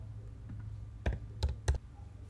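Keys on a computer keyboard tap quietly in an office, a few separate clicks spread across a short quiet moment with no voices.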